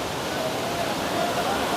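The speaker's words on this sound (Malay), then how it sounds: "Memang sungai dia yang dekat sini memang arus dia agak deras." A fast-flowing river beside a campsite rushes in a dense, steady roar of churning water, close and continuous.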